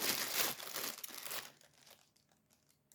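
Plastic wrapping on a package crinkles and crackles loudly up close for about a second and a half while it is opened, then fades to a few scattered soft rustles and a final sharp crinkle.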